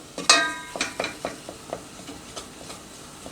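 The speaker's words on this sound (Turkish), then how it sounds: "Unun rengi dönene kadar karıştıracağız." Flour roasting in a pan while being stirred, repeated clinks and scrapes of a utensil against the pan at an uneven rhythm, with a soft sizzle underneath, close by.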